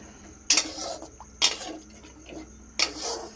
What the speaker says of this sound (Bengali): ঝোলের জন্য জল দিয়ে দিলাম। ভালো করে নেড়ে নিলাম।